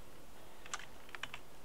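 A short burst of computer keyboard typing as a file name is entered, a few quick clustered key clicks, faint and close, with no voices.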